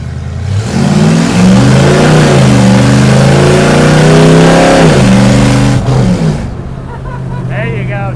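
A 1962 Ford Falcon gasser roars loudly up close, its engine revving hard with a rising pitch, then dipping as it shifts into second gear and climbing again before the noise drops off, with a brief voice near the end.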